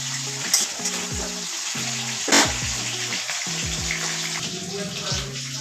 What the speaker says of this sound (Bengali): এবার আলুগুলোকে কিছুক্ষণ ভাজতে হবে